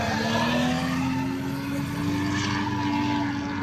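Ford Mustang drift car engine running with no exhaust fitted, a loud steady drone with a strong low harmonic hum that rises slightly in pitch, close and continuous throughout.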